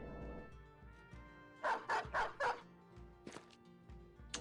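A war dog in the video game Battle Brothers barks in a quick run of four loud, close barks, followed by a couple of sharper yips over game background music.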